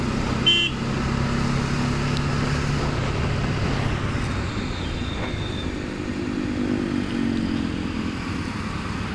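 A car driving in fifth gear on a road, its engine a steady drone under road and traffic noise, with a brief horn-like tone near the start and no talk.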